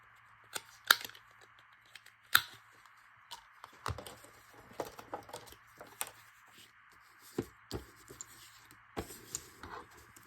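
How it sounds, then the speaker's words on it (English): Cardboard packaging being cut into a small piece for craft supplies, with a series of sharp snips and crisp clicks spaced irregularly, close and fairly quiet, no talking. "Cut that little piece off."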